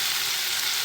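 Eggplant pieces frying in a pan give a dense, steady, close sizzle with no voices over it.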